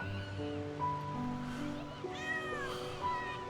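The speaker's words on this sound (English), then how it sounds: "We have our very own kitten now." A kitten meows in a few short, rising cries over a soft background, the calls close and clear with brief gaps between them.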